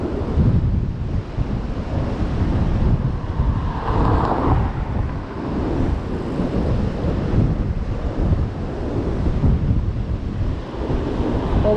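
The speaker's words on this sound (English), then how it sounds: "Look at them waves." Sea waves crash and churn on a windy day along Swanage seafront in Dorset, a loud continuous roar of surf mixed with gusting wind buffeting the microphone, with no voices.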